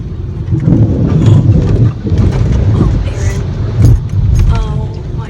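Car driving off-road in Picayune Strand State Forest, with rough scraping and knocking from the underbody, needing a skid plate, over a loud rumbling engine and buffeting, while people talk inside.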